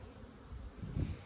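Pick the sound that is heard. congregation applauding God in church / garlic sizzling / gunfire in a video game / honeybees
honeybees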